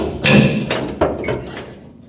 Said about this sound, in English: Whenever you hear a big bang, that's the nut moving.